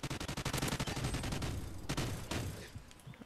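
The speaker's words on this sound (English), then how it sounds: "Picking up that minigun, though." Rapid minigun fire from the Call of Duty Ghosts multiplayer game rattles in a fast close burst, trailing into scattered shots and explosions of distant gunfire.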